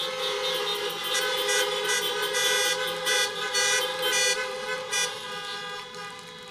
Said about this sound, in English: I would like to honk it out for the senior who nearly single-handedly made the senior drive out happen, Nicole Lauder, who's right there.